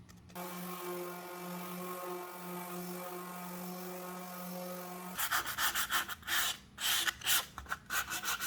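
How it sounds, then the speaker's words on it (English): Steady mechanical hum gives way to loud, rhythmic rasping strokes as a wooden table top is sanded in a garage to remove leftover red paint from the wood pores. "I took it out to the garage to do some sanding"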